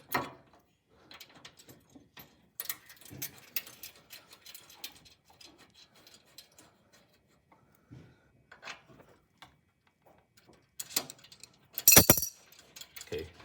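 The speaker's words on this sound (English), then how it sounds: "you can lock the 4 bolts on the side here back into place" Metal bolts are threaded back into the side of an Elite Series dough sheeter and hand-tightened, giving sparse, close clinks and small rattles with quiet gaps, ending in a louder metallic clatter.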